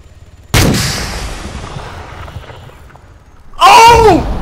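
Arma 3 gunfire: one sharp, loud shot cracks and decays into a long rumbling echo, then a second burst of noise follows with a voice over it.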